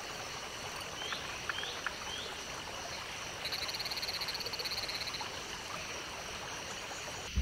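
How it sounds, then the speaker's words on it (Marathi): Malabar gliding frog, a leaf-nesting tree frog of the Western Ghats, calling in a wet forest with a trickling stream, giving a few short chirping calls and then a rapid rattling series, moderately distant over steady water noise. "झाडाच्या पानांवर घरटं करणारा मलबार ग्लायडिंग फ्रॉग"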